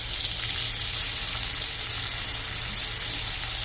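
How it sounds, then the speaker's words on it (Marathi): Rice being sautéed in a pan for Narali bhat, a continuous close, loud sizzling hiss with no pauses. "ते तांदूळ थोडेसे असे परतून घ्यायचे 2 ते 4 मिनिट"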